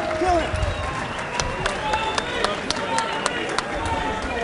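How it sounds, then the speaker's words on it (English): A crowd at a kickboxing event in Atlanta applauds and cheers in a steady wash of scattered claps, with a few sharper hits standing out and a voice over the noise. "Going into our final round, round of applause once again"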